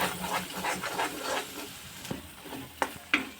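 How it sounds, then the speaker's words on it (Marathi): Ground masala paste for stuffed bitter gourd (bharli karli) sautéing in a pan, with a soft steady sizzle and several scraping stirs, including a few sharper clicks of the spoon against the pan near the end. "हा मसालाही व्यवस्थित असा परतून घ्यायचा"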